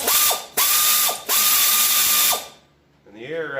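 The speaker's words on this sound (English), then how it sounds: "I'm going to use an air ratchet because I'm lazy" Air ratchet driving a spring spacer bolt on a 2019 Can-Am Outlander 1000R XT ATV: three loud, close bursts of high whirring ratchet noise, separated by brief pauses, then the tool stops and falls quiet.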